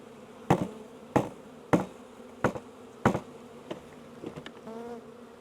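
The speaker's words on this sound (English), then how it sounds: "I have a few more bees on here." A close, steady buzzing of bees runs under a series of dull, regular knocks, ending with a louder swirl of buzzing.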